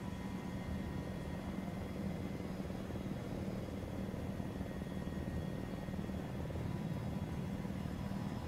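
A military helicopter in the video game Arma 3 gives off a steady rotor and engine drone, a constant whirring hum that stays even and fairly faint with no breaks.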